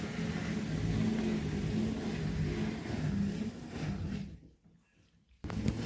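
LG F2V5GG9T washer-dryer drum with an unbalanced load of socks trying to ramp up to spin, a loud, close rumbling whir that falters and drops near the end before surging again.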